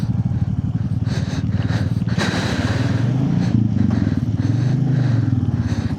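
A Royal Enfield Classic 350 Reborn motorcycle rumbles steadily while being ridden, a close, continuous low thumping engine note with wind and road noise.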